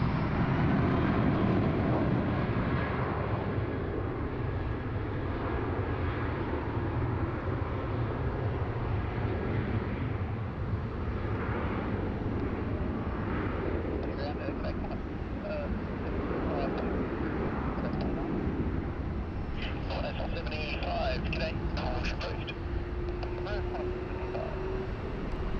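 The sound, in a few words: Jetstar A320 on runway 16 right, Sydney Airport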